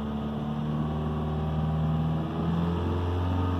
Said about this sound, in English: So if I rev the engine